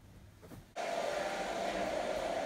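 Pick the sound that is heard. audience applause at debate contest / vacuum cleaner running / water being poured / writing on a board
vacuum cleaner running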